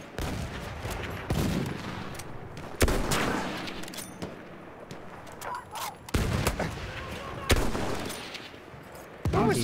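Enemy gunfire rattles in Battlefield 1, with a string of sharp rifle and machine-gun shots cracking at irregular intervals, some close and loud, others further off, amid battlefield noise.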